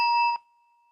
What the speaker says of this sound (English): It's a singing bell.